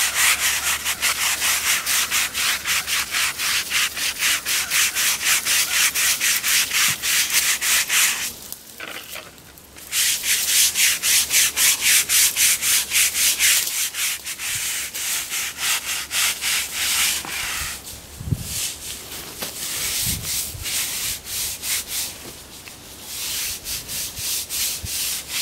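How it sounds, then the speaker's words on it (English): A brush scrubs lichens and debris off a stone tombstone outdoors, a continuous close, rasping scrubbing with short pauses and a few light knocks, no talking. "it'll take off these lichens and debris. And scrub it all the way down."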